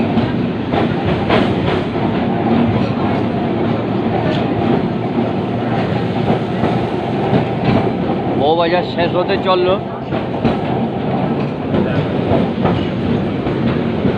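A Kolkata tram rolls along its rails through Bowbazar with a steady rumbling clatter and rhythmic wheel clicks, close and continuous, while someone talks over it and a brief squeal rises midway.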